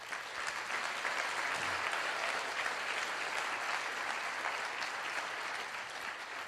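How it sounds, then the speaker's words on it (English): An audience at a motivational speaking event breaks into sustained, even applause, a dense wash of many hands clapping that holds steady for the full stretch with no voice over it. "Give yourselves a round of applause."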